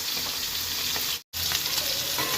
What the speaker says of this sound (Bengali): এক প্লেট ভাজা হয়ে গেছে উল্টে নিলাম এদিকটা ভেজে এবার তুলে নেবো